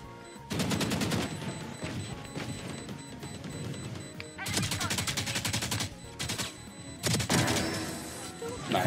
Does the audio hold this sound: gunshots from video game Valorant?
yes